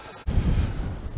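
Strong wind buffets the microphone at a wild camp by the cairn on Little Sca Fell, a low roaring rush that surges in after a brief lull and stays loud and steady.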